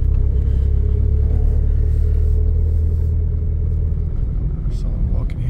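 Nissan Silvia S15 Spec S engine bogging down in too low a gear, a loud, steady low rumble that sags slightly toward the end and holds close and continuous for the whole stretch.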